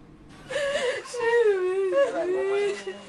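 A woman cries and whimpers in grief over the loss of her children, a close, wavering wailing moan that rises and falls for about three seconds.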